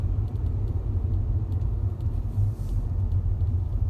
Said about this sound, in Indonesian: banyak kendaraan, ya macet.